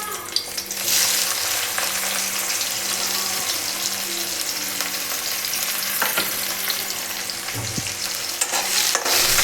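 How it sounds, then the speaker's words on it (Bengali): Onions and green chillies frying in hot oil in a home kitchen, a steady loud sizzle that carries on throughout, with faint stirring and clinks of utensils. "এখন এই তেলের মধ্যে দিয়ে দেবো পেঁয়াজ"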